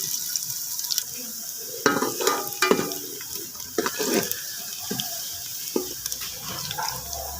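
Finely chopped onions, garlic and green chillies fry in ghee in a home kitchen, giving a soft, steady sizzle. Occasional scrapes and clinks of stirring rise above it, all fairly faint.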